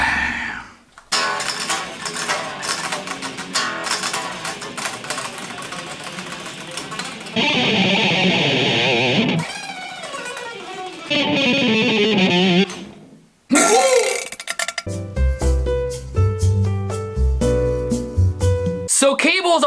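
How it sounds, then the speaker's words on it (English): Electric guitar played through an amp with distortion and effects over a NUX B-2 wireless system, loud and continuous, with shifting chords and bursts broken by brief pauses, ending in bright rhythmic picked notes. "I can play guitar from the bathroom and still have my amp sounds."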